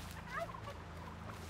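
A human voice imitating a turkey gobble, a short, quiet warbling call over a low steady hum.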